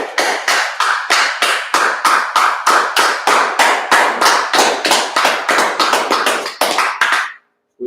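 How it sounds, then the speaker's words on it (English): A group clapping in unison at a Monday night history class, loud, close, evenly spaced rhythmic claps for about seven seconds before stopping abruptly. "clap it up."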